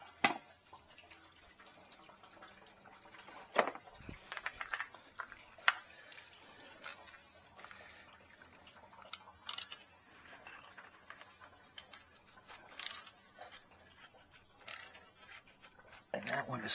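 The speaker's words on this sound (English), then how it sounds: "we're going to put our little oil filter wrench on that" An oil filter wrench is fitted onto the oil filter of a Corvette C5, giving scattered light metallic clicks, taps and clanks at close range over a low background.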